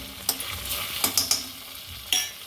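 Pasta with tomato sauce is stirred in a pan, a spoon clacking against the metal in a few quick scrapes over a soft sizzle, close by and without talk.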